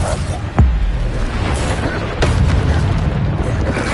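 Bombarda explosion spells go off in the Hogwarts Legacy video game: two sharp booming blasts about a second and a half apart, each a loud burst fading into a rumbling, noisy tail over continuous game sound.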